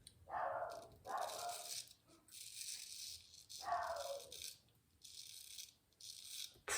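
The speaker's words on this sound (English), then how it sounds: "That's a bloody dog." A dog barks outside in a few sharp bursts with gaps between them, fairly distant and unaccompanied by any talking.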